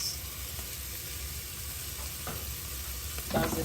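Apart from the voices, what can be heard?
mussels cooking in pan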